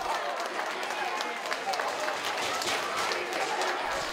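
Crowd and players at an amateur football match cheering and clapping after a goal by Rot-Weiß Rankweil, a continuous outdoor roar of applause with a commentator talking over it.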